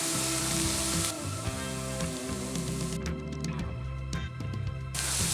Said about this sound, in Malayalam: ഈ സവാളയും പച്ചമുളക് കൂടി ഇട്ട് കൊടുക്കാം. ഇതൊക്കെ ഒന്ന് വഴറ്റിയെടുക്കണം.